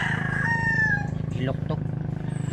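A rooster crowing at a gamefowl farm, one loud, near drawn-out crow with fowl clucking alongside, under a steady rhythmic hum and a voice speaking.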